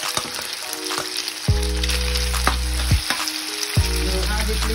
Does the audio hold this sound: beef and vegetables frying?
yes